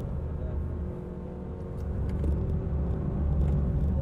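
A rally car takes a bend in third gear without lifting off the throttle, its engine a steady, close, droning rumble that rises slightly toward the end, as heard from inside the car.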